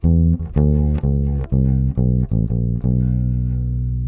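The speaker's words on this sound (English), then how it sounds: "So the turnaround phrase should sound like this." A bass guitar plays a short blues turnaround, a run of plucked low notes in a loping rhythm, ending on a held note, solo and close.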